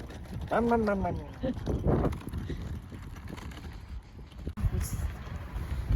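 Wind buffets the microphone with rough, rumbling gusts while a person talks in French, the noise rising and falling throughout.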